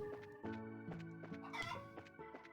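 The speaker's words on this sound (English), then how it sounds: "Yo, chicken." Chicken clucking in the video game Trails in the Sky, a run of short bright clucks and squawks in quick succession, faint and alone with no talk.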